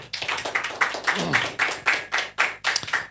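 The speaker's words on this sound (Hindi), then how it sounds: "जो ताली बजा रहे हैं ऐसा लग रहा है कि चपाती बना रहे हैं" Audience clapping in a Hindi talk setting, a series of soft, sparse handclaps in loose rhythm, fairly near, with faint background murmur.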